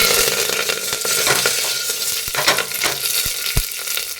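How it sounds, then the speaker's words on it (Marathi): Cumin seeds and curry leaves crackle and sizzle loudly in hot oil inside a pressure cooker, a dense continuous frying hiss broken by sharp pops and a few spattering bursts, with no talking. "जिरे तडतडले ही चार पाच कडी पाने घालायची आहेत"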